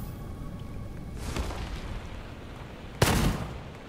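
Gunfire in the shooter game Gunfire Reborn, a couple of muffled booming shots over a low background rumble, the second one sharper and louder near the end.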